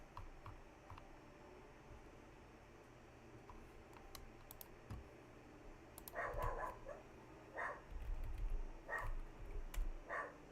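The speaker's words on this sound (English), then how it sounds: "I don't know if you guys can hear Lincoln barking in the background." Faint dog barks in the distance, a few short bursts near the end, over quiet background noise and light clicking.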